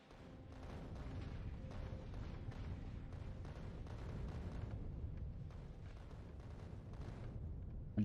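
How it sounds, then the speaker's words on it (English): Big explosions in the video game Factorio: Space Age form a steady, low, muffled rumble of overlapping booms that lasts the whole stretch at a fairly quiet level, with no voices. "There are already some big explosions happening."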